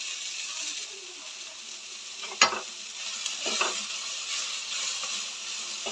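Grated coconut frying in a pan and stirred for horse gram sprout sambar, a steady sizzle with a few scraping strokes of the spoon, close and fairly even.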